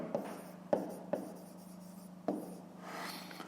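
A pen writes a fifth-grade math exercise by hand on paper in a quiet room, with a few sharp taps and scratchy strokes spread over a few seconds and faint rubbing between them.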